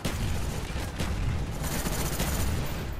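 FAMAS rifle fire in Call of Duty: Black Ops comes as a steady, loud barrage of rapid shots with booming explosions mixed in, close and unbroken throughout.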